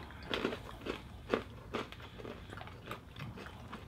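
Sweet, salty maple-flavored cashews being bitten and chewed up close, a run of crisp, uneven crunches at a moderate level with no talking.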